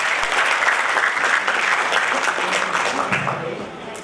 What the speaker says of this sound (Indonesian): Masih kurang kencang tepuk tangannya,